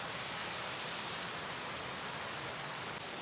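A strong, high-pressure monsoon stream on the Salva Hill trek in Konkan rushes in an unbroken hiss and roar, steady and fairly soft, with no voices.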